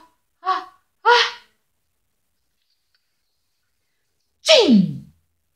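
A storyteller's voice imitates a bear's sneeze: two short sharp intakes of breath, a pause, then one loud, close explosive sneeze.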